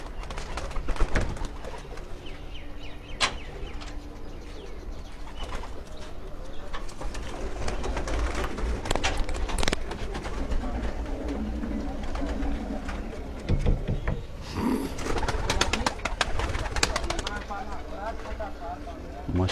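Pigeons cooing on a Punjab rooftop loft, soft intermittent coos under steady conversation between men, with scattered handling noises and outdoor background.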